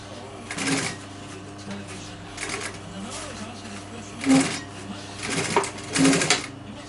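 A sewing machine stitches sofa upholstery on a small sofa arm in short separate bursts of whirring, with quieter gaps and handling noise between runs.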